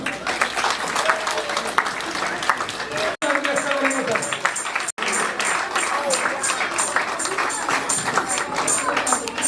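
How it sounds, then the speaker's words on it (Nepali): A church congregation claps and cheers continuously, with brief pauses and voices mixed into the noisy applause. "ताली बजाइदिनुहोस्।"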